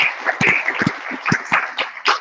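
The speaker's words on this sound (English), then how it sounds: "Can you give him a big round of applause?" A lecture audience claps after a physics talk, a short burst of scattered, fairly close hand claps with uneven rhythm, lasting only a couple of seconds.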